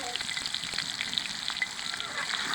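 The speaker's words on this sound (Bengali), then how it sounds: "এখন এটাকে আমরা লাল লাল করে একটু ভেজে নেব।" Potatoes with turmeric and salt fry in a pan, making a continuous crackling sizzle with faint crisp pops. It is close and moderately quiet, and no one talks.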